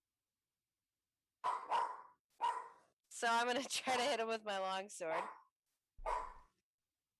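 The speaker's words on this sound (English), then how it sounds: "Sorry for the pug noises." A pug barks in short, separate yaps at a moderate distance. Someone talks between and around the barks.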